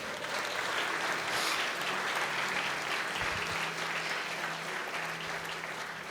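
A church congregation applauding during a sermon, a continuous wash of clapping from many hands that holds evenly throughout, with low murmur underneath.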